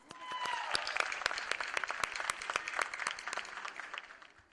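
An audience at a pre-primary school annual day bursts into applause, many hands clapping in a crisp, dense patter with distinct sharp claps standing out, fairly distant and tapering off at the end.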